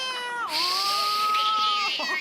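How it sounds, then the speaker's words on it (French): A cat gives one long, drawn-out meow that rises and then holds a steady tone, played as a sound clue in a French TV guessing game, loud and close with no talk over it. "Un chat, un chat."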